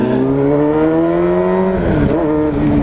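A Honda Hornet motorcycle engine revs loud and close, its pitch climbing steadily and then dipping and climbing again as it accelerates through a gear change.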